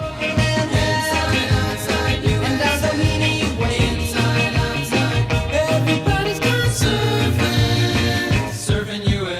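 A 1963 surf rock song, a full-band recording with driving drums, bass and bright guitars, loud and steady throughout, no talking.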